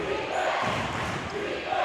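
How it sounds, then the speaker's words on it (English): A crowd at a college basketball game between Azusa Pacific University and Academy of Art roars back to life, a steady wash of cheering and shouting that fills the arena throughout. "And now the crowd has come back alive as well."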